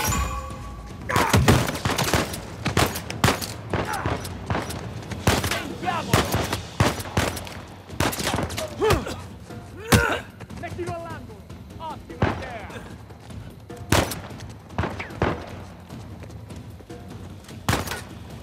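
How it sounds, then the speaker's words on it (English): Enemy gunfire in Uncharted 4: A Thief's End, chapter 7, with repeated sharp shots and bursts cracking throughout, close and loud, over continuous game sound and a voice talking at times. "Oh no, we're getting shot from behind."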